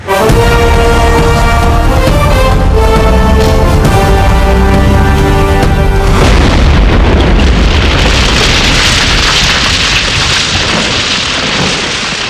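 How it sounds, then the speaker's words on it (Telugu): A car blows up in a Telugu action film: a loud, sustained roaring blast with rumbling debris takes over from the swelling music track about halfway through and stays close and dense to the end. "ముఖ్యమంత్రి రామ్మోహన్ గారి కారు పేలిపోయింది"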